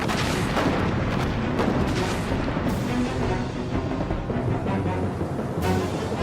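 Booming naval cannon fire from a warship in rapid, overlapping blasts, loud and rumbling, with a sharp burst near the end.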